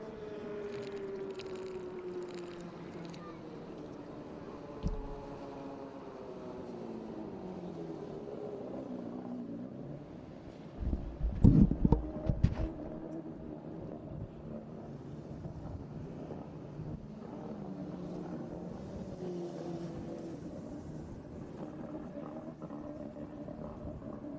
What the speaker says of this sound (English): They'll punch the gas pedal to the floor, and we'll go racing here